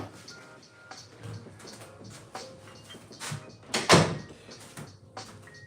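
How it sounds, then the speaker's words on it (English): An indoor door is closed with a firm thud partway through, after a few soft handling and shuffling sounds close by. "Let me close this door."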